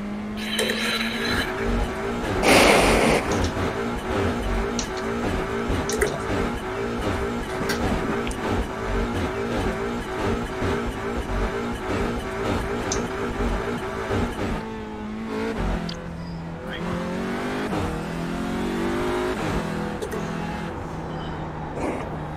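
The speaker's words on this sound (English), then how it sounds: "Watch that car behind you, Max." Race cars from a racing video game at Donington Park roar past continuously, engines revving and shifting with brief tire squeals, loud and dense throughout with a short burst of louder noise early on.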